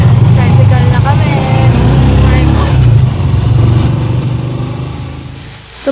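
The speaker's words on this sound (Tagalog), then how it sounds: "Tricycle na kami." A motorized tricycle's engine drones steadily and close while riding, a low rumble running the whole time under people chatting, easing off slightly toward the end.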